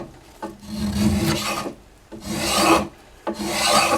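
Hand tool rasping across unheat-treated walnut wood in three long, close strokes with brief pauses between, a rough crunchy scraping alone with no talk.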